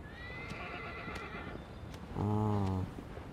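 A horse in the video game Shadow of the Colossus whinnies loudly and briefly near the end, with hooves clip-clopping steadily underneath throughout.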